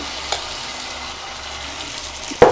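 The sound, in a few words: utappam batter poured onto hot oiled pan, sizzling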